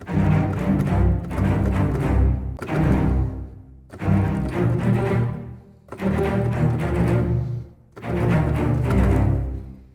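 Orchestral strings play short, punchy repeated notes in bursts, each phrase a couple of seconds long with brief pauses between, full and resonant.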